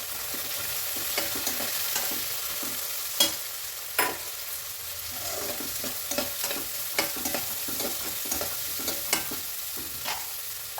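Green peas frying in hot tempering oil in a pan, a steady soft sizzle broken by repeated spatula scrapes and stirring clicks.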